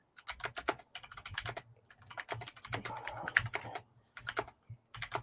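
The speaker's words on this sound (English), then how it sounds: "Hold on. Typing it." Fingers tap a computer keyboard in quick irregular bursts of clicks, close and fairly quiet, with short pauses between runs of keystrokes and no voices.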